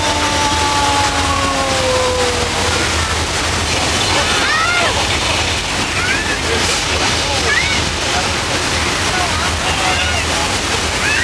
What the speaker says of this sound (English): Our flood was all the thousands of gallons of recycled water being released from tanks way up on top of the hill.